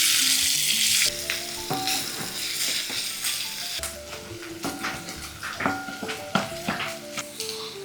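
Asafoetida and chopped onion hit hot oil, starting with a bright hiss that settles into a lively sizzle, punctuated by clinks and scrapes of a utensil stirring in the pan, while faint background music plays throughout.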